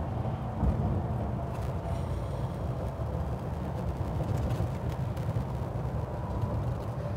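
A 1950 Chevrolet stretch-cab restomod truck drives on the road with a steady, dense rumble of engine and road noise heard from inside the cab, fairly even in level throughout, with no talking.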